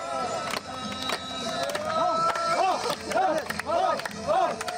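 A street crowd in Gaza celebrates a ceasefire, clapping and chanting slogans in rising, rhythmic bursts of massed voices, with scattered shouts and hand claps over a steady, noisy hubbub.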